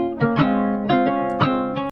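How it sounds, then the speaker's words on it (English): A short guitar loop pitched down a full octave, used for a modern pop track, plays four deep, plucked chord notes in an even rhythm that ring over about two seconds, clear and alone. "I took the same guitar loop from earlier and I pitched it down a whole octave"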